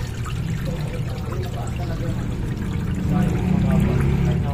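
Automatic transmission fluid drains from the oil pan of a 2022 Toyota Innova into a container as a steady pouring trickle that grows slightly louder toward the end, with no talk.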